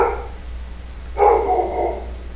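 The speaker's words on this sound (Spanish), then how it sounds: "Nuestro perro está haciendo un poquito de bulla." A household dog barks in a short burst of a few loud, close barks in the second half, with a quieter bark or two near the start and a steady low hum underneath.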